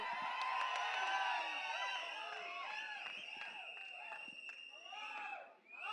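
A crowd at a film launch event cheers, whoops and shouts loudly and continuously, with sharp whistles rising above a dense wall of voices that swells early and dips near the end.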